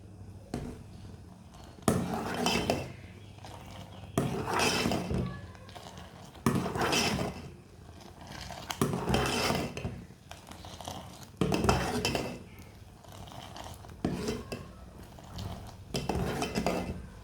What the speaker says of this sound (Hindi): चाय को मैंने 1 मिनट तक फेंटते हुए पका लिया कस्टर्ड पाउडर डाल के।